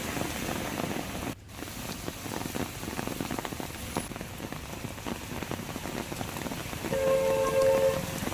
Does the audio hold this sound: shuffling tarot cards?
no